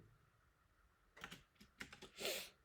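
Several close keystrokes clack on a computer keyboard in a short quiet burst, ending with a firmer press, with no voice over them.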